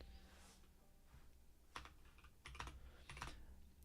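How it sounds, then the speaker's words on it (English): Keys clack on a new mechanical keyboard in a short burst, several quick clustered strokes separated by brief pauses, close and fairly quiet with no talking. "I got a new keyboard, specifically one that is mechanical, which is great. Sounds lovely"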